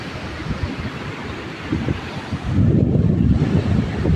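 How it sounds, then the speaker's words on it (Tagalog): Large ocean waves break off a boulevard seawall, a loud continuous rush of surf and wind buffeting the microphone that swells stronger midway as a big wave crashes, no speech. "So doon talaga ang klarong-klaro ang mga alon sa unahan. Sobrang laki ng alon."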